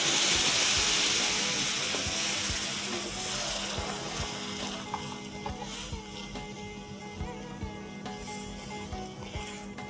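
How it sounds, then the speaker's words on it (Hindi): Milk, a full litre, streams steadily into samvat rice roasting in a pan, a continuous hissing, splashing pour that stays loud and close before easing slightly toward the end. "अब इसमें डालेंगे 1 लीटर दूध।"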